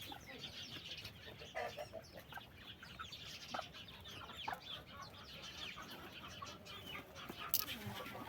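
Chickens in a backyard coop, soft clucking and scattered calls at close range over steady farmyard noise, with no talk.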